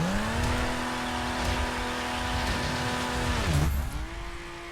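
A high-pitched sports car engine in The Crew video game holds a steady, screaming note, then dips sharply and climbs again, loud and close with a tire-squeal edge.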